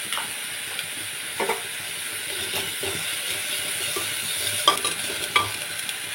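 Minced meat with ginger-garlic paste stir-fries in mustard oil under a constant close sizzle, broken by repeated scraping and clinking as a spatula stirs the pan at an irregular pace.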